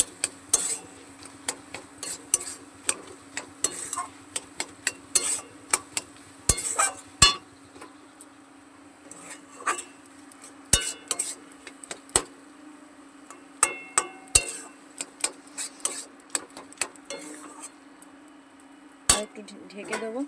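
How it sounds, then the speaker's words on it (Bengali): Pointed gourd and chillies are mashed in a metal pot: irregular sharp knocks and clinks of the utensil against the pot, some in quick clusters, others spaced apart, over a steady background hum. "এটাকে আমি ভালো করে ম্যাশ করে নেব"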